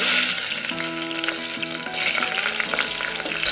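Bay leaf, cumin seeds and fresh chili crackle and sizzle steadily in hot oil, a dense close spitting hiss with faint tonal hums beneath and no voices.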